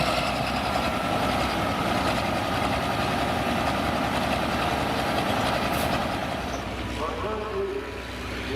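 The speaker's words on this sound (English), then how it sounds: "Yeah, it's got that Cummins engine in it now." A pulling tractor fitted with a Cummins engine idles with a steady, heavy low rumble that holds without pause, loud and close, easing off slightly near the end.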